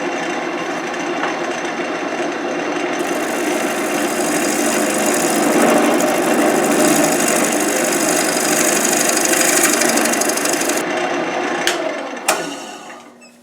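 A square-nosed scraper works back and forth across a spinning wooden bowl on a lathe, giving a steady, close scraping hiss over the motor's hum that fades out near the end.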